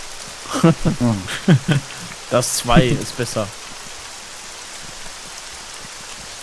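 Rain in the video game Arma 3, a steady soft patter and hiss throughout, under a man's short spoken German remark, then continuing alone.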